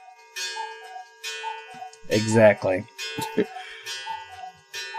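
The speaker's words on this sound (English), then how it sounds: "Okay, cuckoo clock." Regular ticking from a cuckoo clock, a steady repeating rhythm running across the whole stretch, with a voice speaking briefly over it partway through.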